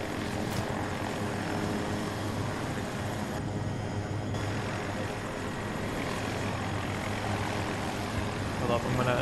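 A video game aircraft flies overhead, a loud continuous engine and propeller drone holding steady for several seconds, with game speech faintly present beneath it.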